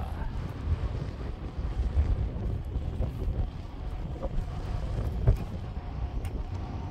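Wind gusts across open sea during a fishing trip, buffeting the microphone with uneven, rumbling bursts alongside faint wave and boat sounds, with no clear speech.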